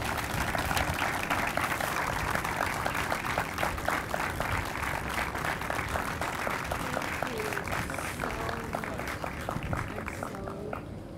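An audience at a Boys & Girls Club grand opening applauds steadily for about eleven seconds, with dense clapping from a large crowd that fades slightly toward the end.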